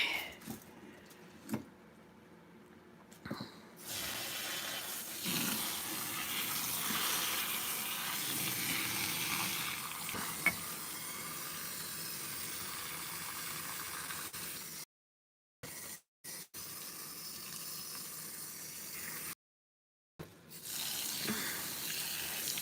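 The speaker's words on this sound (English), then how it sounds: "Just dripping in here." Running water trickles and splashes into a sink in fitful bursts, with brief silent gaps between spells, fairly close and without speech.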